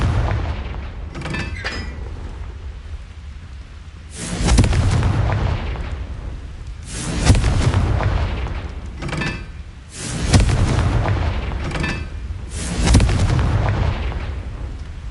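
Confringo spell blasts from the Hogwarts Legacy video game go off as four loud, booming explosions spaced about three seconds apart, each rumbling and decaying into a continuous low roar.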